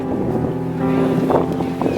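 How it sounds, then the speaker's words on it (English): A boat passes along a river in Cambridge, its steady engine drone holding close and loud with wind buffeting the microphone, no voices over it. "He's in that boat that's just gone past."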